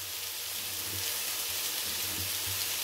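Chicken fillet fries in a pan, a steady soft sizzle with faint crackling that stays even and close the whole time, with no talking over it.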